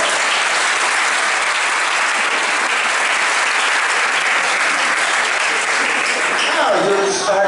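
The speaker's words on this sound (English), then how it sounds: "Give yourself a big round of applause." A large audience claps loudly and continuously, dense steady applause filling the room, with faint voices rising near the end as it starts to fade.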